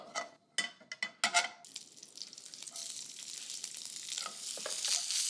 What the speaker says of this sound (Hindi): तो एक छौंक बनता है, राई, करी पत्ता,